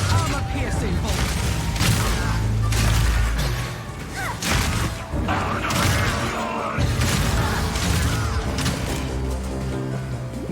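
Armor-piercing crossbow bolts fire in Path of Exile 2 as a dense run of heavy thuds, mechanical clacks and crashing impacts, loud and close, with a whooshing surge, under continuous talking.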